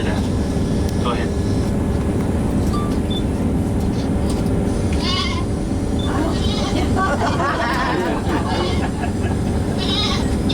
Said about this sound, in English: That's a goat fish right there.